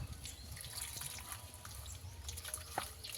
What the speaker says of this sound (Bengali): তারপরে পরিমাণ মতন জল দেবো।